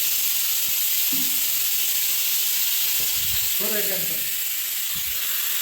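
A pressure cooker on a gas stove vents steam through its whistle as a loud, continuous, unbroken hiss that fills the whole stretch, with a few brief voices talking faintly beneath it.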